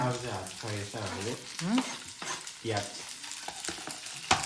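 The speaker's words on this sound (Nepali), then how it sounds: "प्याज तरर गर्छ" Chopped onions sizzle steadily in hot oil for crispy chilli chicken, a continuous frying hiss with a voice-like tone sounding over it at times.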